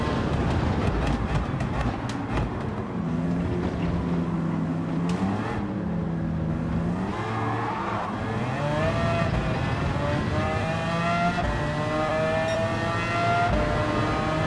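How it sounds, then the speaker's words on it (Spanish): V10 engine revving in the racing game Gran Turismo 7, a loud steady engine note with rising harmonic sweeps as it accelerates, continuous throughout with no talk. "Ese motor V10."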